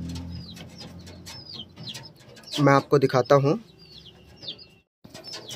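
Pigeons coo nearby in a burst of soft throaty calls, with someone speaking briefly and small birds chirping in the background.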